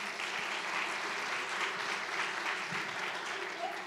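Church congregation applauding during a family conference service, a steady broadband wash of clapping that fills the whole clip at moderate level with faint voices mixed in.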